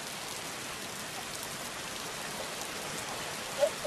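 Steady rain pours down at a campsite in a video game, a dense, even hiss of drops with no speech, and a couple of slightly louder spatters near the end.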